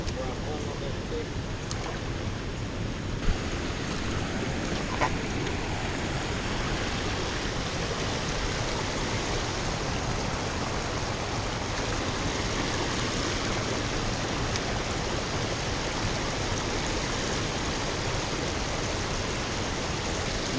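Steady rushing water fills the whole clip, a broad constant wash like a nearby stream, with faint talk barely emerging beneath it.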